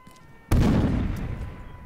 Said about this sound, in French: C'était moi la grenade, hein.